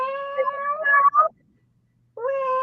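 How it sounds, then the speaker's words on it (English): Kitten meowing at a truck stop, two long drawn-out tonal meows close by, then a short silence before a third meow begins. "I heard that cat noise."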